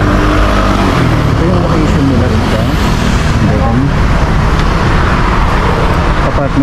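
A motorbike rides along a road in Luzhu, Taiwan, its engine droning steadily under loud wind rush and traffic noise, with people talking over it.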